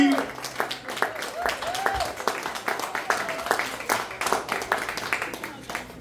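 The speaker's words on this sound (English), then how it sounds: "Come on, run applause." Scattered audience clapping at a comedy show in a brewery, a moderate run of individual claps with a host's voice speaking over it throughout.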